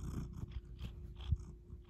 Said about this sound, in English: Don't you just love it when cats, like, rub on the phones?